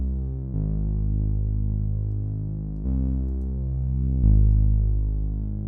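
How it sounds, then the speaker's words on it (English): A deep, repetitive sub bass line follows the root notes of the chords, holding low sustained notes and changing pitch a few times, steady and loud with no voices, part of a rage-style beat. "we have the sub bass, which is very repetitive and it follows the root notes of the chords"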